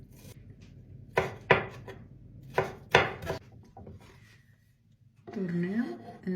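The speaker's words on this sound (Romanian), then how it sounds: "Avem nevoie de jumate de ardei capia. Iată așa tăiem în lung." Knife cutting half a bell pepper lengthwise on a board: a few sharp, separate chops and slices close by, with a voice speaking over the last part.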